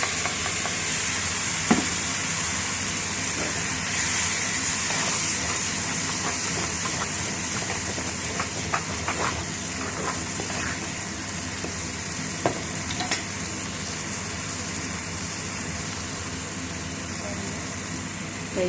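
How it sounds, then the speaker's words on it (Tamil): Mustard seeds crackle in hot oil in a village-style kitchen while a keerai kadaiyal is being made, a long continuous frying hiss dotted with scattered small pops, with faint talking underneath. "கடுகு பொரியுது."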